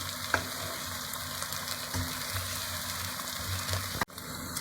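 Chopped peppers sautéing in a pan for a Turkish meat and sour stew, a steady close sizzle with occasional faint stirring, ending with a brief sharp knock.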